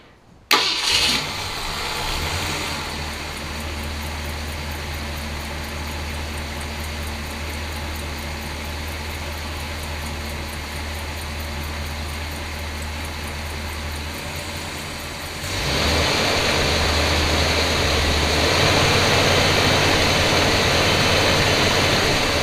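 A 1966 Ford Galaxie 500 convertible engine turns over and settles into a steady, loud idle close by, then its speed rises to a higher, even drone partway through as the idle is adjusted.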